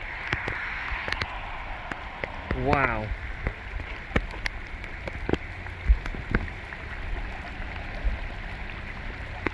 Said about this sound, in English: look at the size of these raindrops